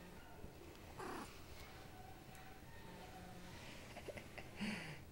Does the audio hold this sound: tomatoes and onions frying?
no